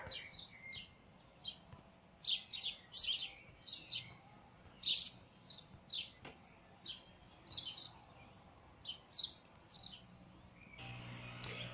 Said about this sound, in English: Lots of sparrows.